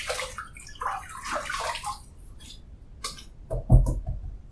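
Water splashing from a face rinse before shaving, a few irregular wet bursts at close range, the last one loudest, with no talking.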